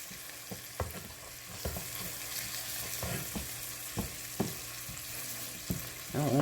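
Beef browning in a pot for stew, a soft continuous sizzle punctuated by clear spoon-stirring knocks and scrapes at irregular intervals.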